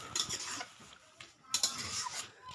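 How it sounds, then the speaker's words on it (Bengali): A spoon scrapes and stirs sour spinach with boiled potato in a cooking pot, giving a few quiet, close rubbing strokes with faint metallic scraping against the pot. "ভালো করে নাড়িয়ে নিচ্ছি।"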